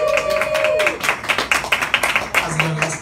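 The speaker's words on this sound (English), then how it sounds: "So everyone give a big round of applause for our first performer of the evening" Open mic audience clapping and cheering, a dense burst of applause with scattered claps spread across the room, steady and fairly loud throughout.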